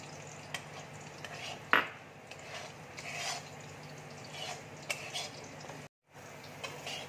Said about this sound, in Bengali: ঘিটা দেখো মেল্ট হয়ে গেছে, এবার আমি সুজিটা দিয়ে দিচ্ছি।